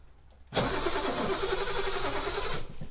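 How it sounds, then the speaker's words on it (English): Starter motor cranking steadily to drive a BMW E32 sedan, kicking in abruptly with a loud whirring drone that holds for about two seconds before cutting off. "This is how you drive a BMW, just with the starter."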